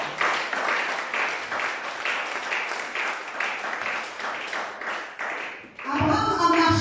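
A church congregation claps together in a steady, rhythmic applause that fills the room for several seconds, then swells into louder mixed cheering and clapping at the end.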